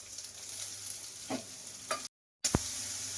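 Chopped onions fry in hot oil with mustard seeds and garlic, giving a steady close sizzle broken by a few sharp pops and stirring clatters, with a brief dropout near the end.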